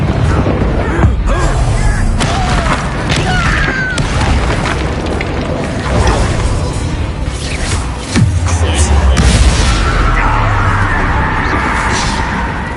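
Bombarda explosion spell in Hogwarts Legacy: heavy booming blasts go off repeatedly through a noisy magical fight, with crackling bursts and a voice talking over the din.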